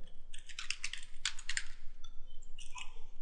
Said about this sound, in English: And then you're going to type in your username.